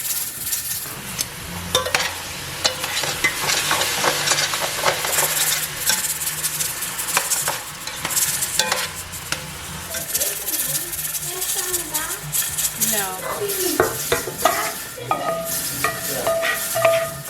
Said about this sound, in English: I went ahead and put my ground beef in my cast iron skillet